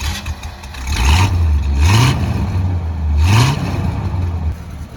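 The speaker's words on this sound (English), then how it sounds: "Here is the dual exhaust with turbo mufflers." A 1974 Pontiac Grand Prix with a carburetor, dual exhaust and turbo mufflers runs close by, its low engine rumble rising in two short revs over a steady idle, with no one talking.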